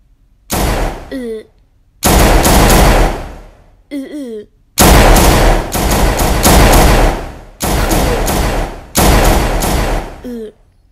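Loud bursts of rapid staged gunfire sound effects from a LEGO hostage-rescue animation, coming in several long volleys separated by short gaps, with brief voiced or whooshing effects between some bursts.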